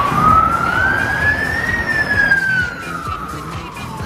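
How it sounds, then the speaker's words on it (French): A wailing emergency siren rises and then falls in pitch, loud and fairly close over steady traffic rumble, in Montreal in winter. "on va avoir une belle sirène là pour mon accueil"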